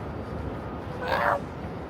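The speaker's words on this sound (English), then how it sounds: "Cat Yellow's here" A single short cat meow rises out of steady city street noise during a Saturday morning stroll in NYC, fairly close and clear.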